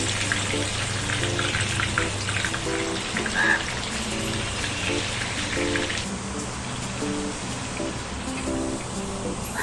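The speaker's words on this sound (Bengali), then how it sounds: "এবার কড়াইয়ে সর্ষের তেল দিয়ে মাছগুলো দিয়ে দেব" Rohu fish pieces wrapped in pumpkin leaves frying in mustard oil in a wok produce a dense, close sizzle with scattered pops and crackles throughout.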